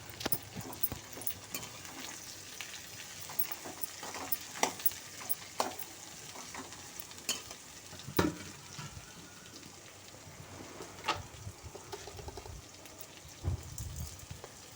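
Bitter gourd being stir-fried in oil, a faint, steady sizzle like light rain with irregular spatula taps and scrapes scattered throughout.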